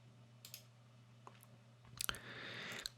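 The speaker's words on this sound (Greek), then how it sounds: "πατάμε δεξί κλικ στη σελίδα και μετά copy" Computer mouse clicks, a few sharp, faint taps spread across a quiet room hum, with a denser cluster of clicks and brief rustle near the end.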